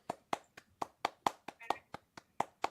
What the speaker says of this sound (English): We're giving you your applause.